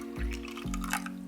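Water pours into whisked eggs in a glass bowl, a short burst of splashing and trickling with a few resonant glassy tones, close and clear.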